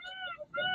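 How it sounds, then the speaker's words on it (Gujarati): Peacocks call in a forest near ancient caves. Two close, loud, wailing cries with a short pause between them. "અહીંયા મોરલા બોલે છે"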